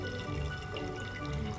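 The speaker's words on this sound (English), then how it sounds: "I'm going to take the water, I'm going to pour it in one of the cups" Water poured into a cup during a high school chemistry lab, a steady close wash of pouring liquid that runs continuously without a break.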